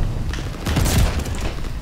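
Shotgun gunfire in a competitive shooter video game, a loud, dense burst of blasts clustered together over under two seconds, with booming low-end impacts.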